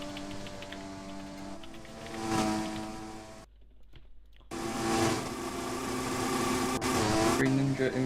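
Race cars pulling out of the pit lane in a racing video game, engines droning and rising in pitch, with a brief dropout midway before the roar resumes; a commentator talks over it.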